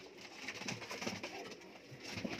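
A pair of spotted golden pigeons coos close by in soft, throaty, repeated calls, steady over a faint background hiss.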